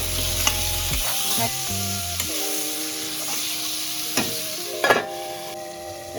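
A spoon stirs tomato, green chillies and salt in a frying pan for a fish curry, a steady close sizzle broken by scraping strokes and a few sharper clicks against the pan.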